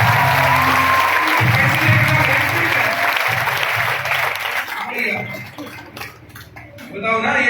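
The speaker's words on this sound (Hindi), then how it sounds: "इसके लिए भी ताली बजाओ के लिए।" An audience at a motivational talk claps in dense, loud applause for about five seconds, then it thins to scattered claps and picks up again briefly at the end.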